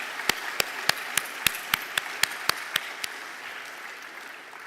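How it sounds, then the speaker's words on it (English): Sparse clapping at an 8th grade awards ceremony in a steady rhythm, about a dozen sharp claps that slow and die away, leaving quiet room noise. "So a round of applause for them."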